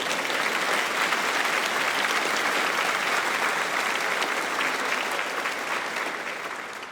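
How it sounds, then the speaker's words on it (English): Audience at a live comedy debate show gives a long, dense round of applause, loud and sustained, easing off toward the end. "Give a round of applause."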